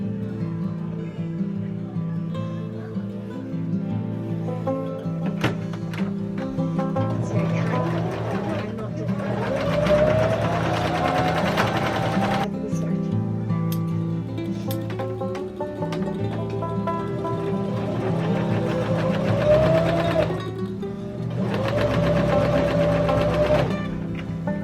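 A sewing machine stitches the elastic channel of a plaid skirt, giving a steady mechanical whir with a fast rhythmic tapping of the needle. A few louder surges come when the machine speeds up.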